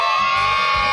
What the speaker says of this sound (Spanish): A ver, el grito de los niños.